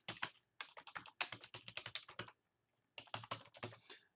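Rapid bursts of computer keyboard typing sound close and quiet as information is entered, broken by a short pause before another quick run of keystrokes.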